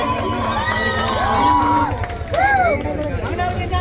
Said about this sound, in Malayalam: ഒരു കയ്യടി കൊടുത്തേ